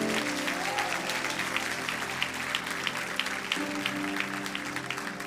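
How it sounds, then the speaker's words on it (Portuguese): A church congregation bursts into steady, sustained applause during an evening worship service, a dense wash of clapping over faint music tones, with no clear speech on top. "Então aplaude forte então"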